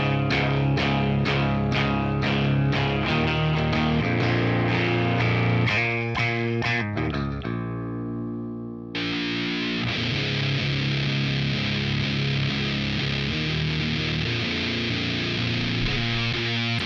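An electric guitar plays through a Way Huge Doomhammer muff-style fuzz pedal, giving thick, saturated distorted chords with rhythmic chugging, a short pause, then a sustained, buzzing wall of fuzz.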